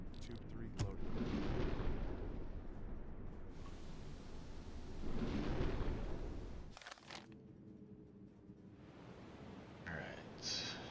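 A torpedo launch from a submarine in the World War II submarine game UBOAT: a long, heavy rushing boom swells and fades over several seconds, followed by a sharp blast and a low rumbling wash.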